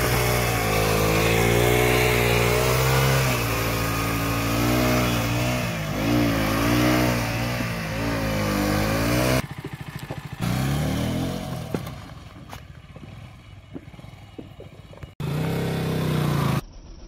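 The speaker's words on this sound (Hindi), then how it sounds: "आज पहिए देखते हैं कितनी तेज घुमाते हैं" KTM motorcycle engine revving hard and loud to spin the wheel fast, rising and falling in pitch for several seconds, then dropping to idle with clicks and clunks.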